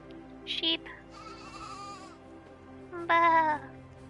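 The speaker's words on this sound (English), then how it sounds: "Sheep." Sheep in the video game AER Memories of Old bleat twice, a short cry then a longer wavering one a few seconds later, clear and close over a soft game ambience.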